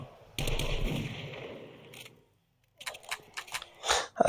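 Gunfire from the zombie survival game 7 Days to Die, a loud dense burst of rapid shots with no talk. Silence follows, then several sharper separate bangs.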